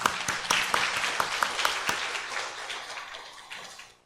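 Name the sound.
congregation applause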